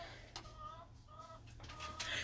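Soft, nasal chicken clucks repeat a few times at moderate volume over a steady low hum, with no voices.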